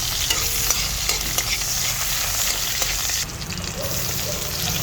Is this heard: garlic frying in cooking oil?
yes